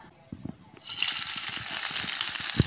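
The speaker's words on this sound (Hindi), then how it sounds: "अब इस घी के अंदर उस प्याज को कटी प्याज को ऐड करेंगे" Chopped onion dropped into hot ghee for a nihari tadka, breaking into a loud, steady sizzle and bubbling fry after a few soft clinks, close up.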